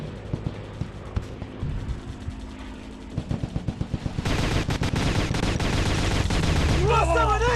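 Gunfire from a video game: scattered single shots give way to dense rapid automatic bursts, loud and close, with shouted character voice lines over the firing.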